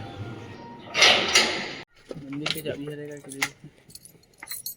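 A bunch of keys jangles loudly for about a second while someone searches for the right key, followed by lighter metallic clinks and soft handling noises, with a voice heard nearby.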